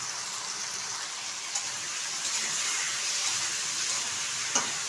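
Okra with salt and turmeric sizzles in a hot pan for an okra and potato curry, a steady hissing fry with occasional faint stirring clicks.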